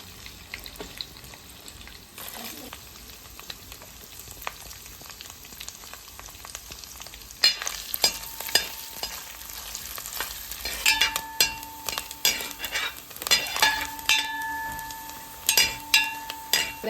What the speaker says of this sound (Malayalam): അത് ഈ നെയ്യിലോട്ട് ഇട്ട് കൊടുത്ത് വറുക്കാം